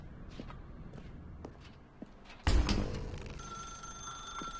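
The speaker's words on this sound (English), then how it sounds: "Now pick up the phone." Telephone ringing in the video game The Stanley Parable Ultra Deluxe, a bright, sustained electronic ring that starts abruptly after a few soft footsteps and carries on loudly to the end.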